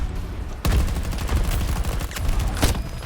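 Rapid bursts of automatic gunfire in the shooter game Battlefield 2042, loud and close, with sharp repeated cracks over a dense, continuous battle din.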